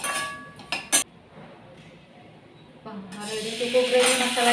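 Cumin seeds and curry leaves fry in hot oil in a pan, with a sizzle that swells toward the end. It follows a few sharp clinks of a utensil against metal, and someone talks over the cooking.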